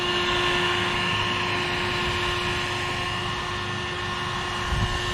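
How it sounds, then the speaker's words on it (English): Heat gun blowing hot air around an aftermarket paint-matched duck bill car spoiler, a steady loud whooshing roar with a constant tonal hum. "heat gun"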